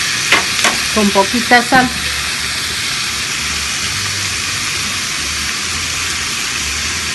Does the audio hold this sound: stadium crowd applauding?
no